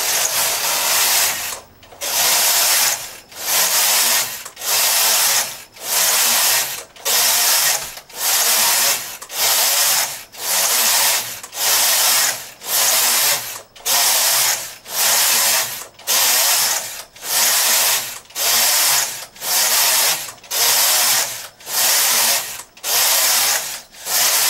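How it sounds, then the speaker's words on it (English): A knitting machine carriage is pushed back and forth across the needle bed to knit rows of a swatch, each pass a loud, even rushing rasp, repeating rhythmically about every 1.3 seconds. "So now I am going to knit I'll knit 25 rows on this."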